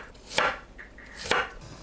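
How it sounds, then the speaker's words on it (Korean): Garlic sliced with a knife on a cutting board, with two distinct crisp chops spaced about a second apart, close and clear with quiet between. "마늘을 편으로 썰어주세요"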